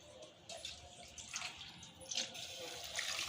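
Water splashes into mutton paya soup in a pressure cooker, soft and close, in a few uneven bursts of pouring and sloshing.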